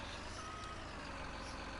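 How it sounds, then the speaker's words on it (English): A truck in Farming Simulator 19 gives a steady reversing beep at a forestry site, over a constant engine drone and a faint high tone. "Pushing the truck over."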